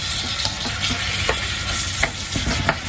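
Chopped tomatoes cooking with corned beef in a pan give a steady close sizzle, with a few soft scrapes and stirring clicks scattered throughout and no talking.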